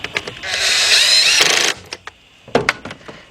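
A ratchet tightening a 13mm nut during a head gasket and timing chain rebuild on a Chevy Equinox or Buick Rendezvous engine. A loud, close burst of rapid clicking lasts about a second, then a few sharp separate clicks and knocks follow.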